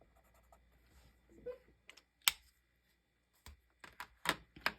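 Ohuhu markers stroke across paper while coloring for a card, soft scratchy swipes coming in short separate bursts between quiet pauses, close and faint.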